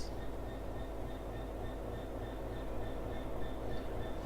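A passing train rumbles steadily in the Train Sim video game on the Acton mainline, a continuous, fairly loud rolling drone with faint tonal whines above it and no pause throughout.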